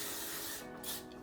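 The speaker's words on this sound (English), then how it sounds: "we can do the Way Shine Mist spray just to make this shiny" Shine mist spray hisses in a steady, close, continuous spritz during a festival makeup routine, with a brief dip in the middle before resuming.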